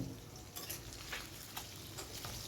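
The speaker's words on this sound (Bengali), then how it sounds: "মাছের এক পাশটা হয়ে গেছে ভাজা আরেক সাইডটা আমি উল্টে দিচ্ছি" Pieces of katla fish sizzle in hot oil as they are turned in the pan, with a steady close frying hiss and a few soft scraping stirs.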